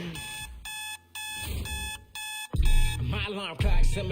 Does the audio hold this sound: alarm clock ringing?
yes